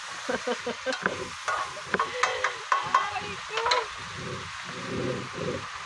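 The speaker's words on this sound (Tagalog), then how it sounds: "Halukayin ng halukayin ang kalabasa." Squash and chayote stirred in a pan: rhythmic scraping and clacking of a utensil over a soft sizzle, close and moderately loud, with faint speech in places.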